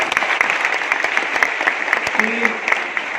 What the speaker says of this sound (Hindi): अपने लिए ताली बजाओ जरा